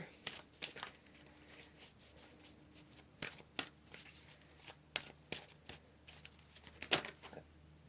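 Tarot cards are shuffled by hand in quiet, irregular bursts of crisp riffling and slapping, close and fairly soft, with short pauses between handfuls.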